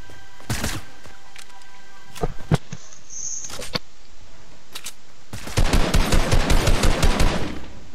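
Video game gunfire in Fortnite: scattered single shots and short bursts early on, then a sustained rapid-fire volley of evenly spaced reports near the end, loud and close.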